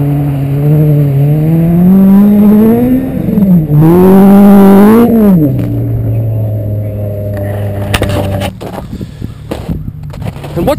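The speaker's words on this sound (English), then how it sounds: "Here comes the Civic to the finish line." A Honda Civic on studded tires ice racing to the finish line, its engine loud and close, revving up and down through high rpm before dropping to a steady drone, then clattering and fading.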